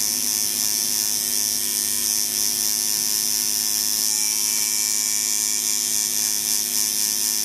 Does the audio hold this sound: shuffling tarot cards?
no